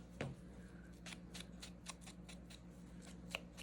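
Scissors snipping through paper while cutting it in half for a winter solstice craft journal, a run of quick, crisp, faint snips close to the microphone.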